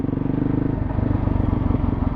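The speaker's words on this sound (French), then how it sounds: "je débraye, je mets la moto un peu dans les tours et je lâche" Motorcycle engine revved up on the spot before a wheelie, a loud, close, pulsing throb that climbs in pitch as the throttle opens, steady and uninterrupted with no talk.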